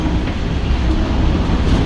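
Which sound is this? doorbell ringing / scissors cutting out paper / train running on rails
train running on rails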